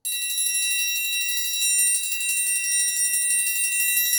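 An orchestral triangle pinched hard between thumb and forefinger while struck, giving a steady, bright, high metallic ring that sounds dulled and choked rather than open, held close for about four seconds with no talking.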